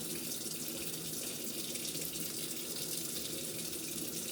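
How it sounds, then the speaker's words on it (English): Steady rush of water from an open faucet during a handwashing demonstration, a continuous even flow heard alone with no talk. "close your water or your faucet"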